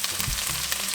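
Garlic and ginger sizzle in a hot pan, a short burst of bright, crackling frying noise heard alone.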